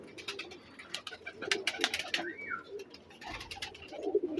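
Pigeons kept in pairs, a mix of black-faced and light red birds, coo softly and repeatedly nearby, with fluttery chirps and rustling in between.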